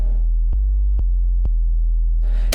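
A loud, thick sub-bass tone synthesized in Serum holds steady with a few faint clicks, and a burst of hissy noise joins near the end.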